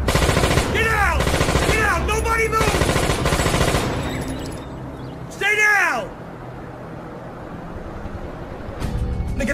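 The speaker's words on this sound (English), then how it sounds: "That was a hell of a warning shot" A warning burst of automatic gunfire in an action movie, loud and close, with a rapid rattle of shots echoing over a vehicle's engine rumble and a few whooping sounds before it trails off into quieter background.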